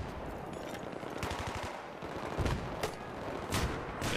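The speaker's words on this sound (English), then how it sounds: "Okay, shooting a mortar." Mortar fire in the Battlefield 3 map Seine Crossing, with a rapid string of loud gunfire-like reports and several sharper heavy blasts spaced about a second apart, set against continuous battle noise.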